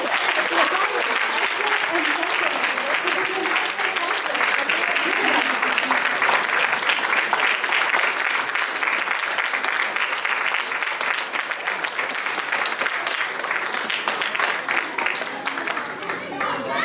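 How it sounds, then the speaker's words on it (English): Sustained audience applause at the close of a Carnatic vocal recital, a dense steady clapping from a full hall lasting throughout without pause. "Please give a big round of applause."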